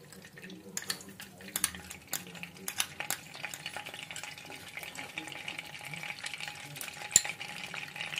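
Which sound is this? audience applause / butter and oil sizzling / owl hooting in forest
butter and oil sizzling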